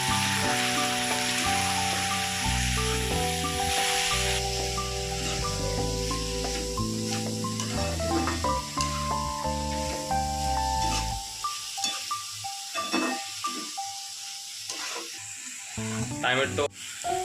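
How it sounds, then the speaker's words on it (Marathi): Tomatoes and onions fry in a pan with a continuous soft sizzle and hiss, at first partly covered by background music and a voice, then clearer and closer once the music drops away. "टोमॅटो नरम होईपर्यंत त्याला फ्राय करत राहायचं आपल्याला"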